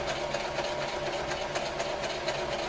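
Sewing machine stitching canvas for a haversack, a loud, close, steady mechanical whir and rapid needle chatter running without pause.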